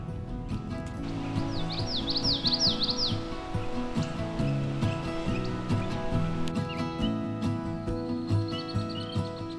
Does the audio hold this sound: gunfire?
no